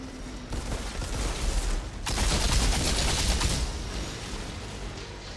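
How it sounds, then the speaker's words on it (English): Burst rifle gunfire in the co-op shooter Outriders, a dense rattling volley that swells into a loud sustained stretch of rapid shots before easing, close and without speech. "The burst rifles seem pretty solid in this game, though."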